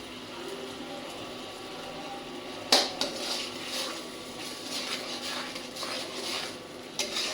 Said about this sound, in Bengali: মশলাটা এখন ভালোভাবে কষাই নিব।